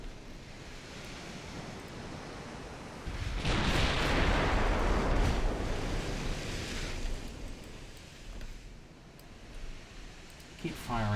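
A destroyer opens fire in the video game Ultimate Admiral Dreadnoughts, loosing a burst of gunfire that swells into a broad, roaring blast wash over an ocean-like background, with a voice speaking over it.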